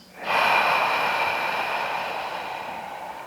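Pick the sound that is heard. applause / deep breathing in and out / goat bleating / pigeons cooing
deep breathing in and out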